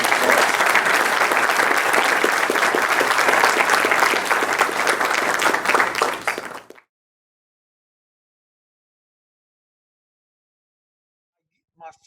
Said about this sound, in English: Let's give Megan a big round of applause.